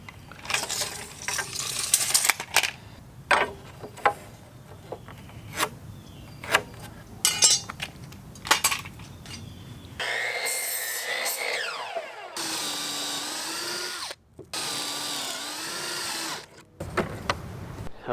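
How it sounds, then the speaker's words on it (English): Pocket holes being drilled into wood boards with a pocket hole jig during a box van bed build: a series of short, sharp drilling bursts, followed by a stretch of steady tonal sound. "Okay, so we got those pocket holes drilled with the jig there"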